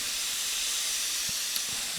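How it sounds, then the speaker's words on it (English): Steady, loud steam hiss from a hot pan of venison stir fry with vegetables, continuous and bright throughout with faint low clicks underneath, no voices. "That's a lot of steam."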